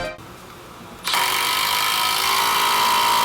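A Milwaukee 12V impact driver sinking 3-inch screws, starting after a quiet moment into a loud, steady, high-pitched hammering whine that holds continuously to the end.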